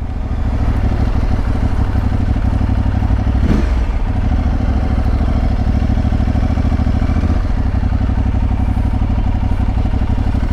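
Steady mid-pitched drone of an Aprilia Tuareg 660 parallel-twin engine under way, loud and continuous, with a brief clatter partway through.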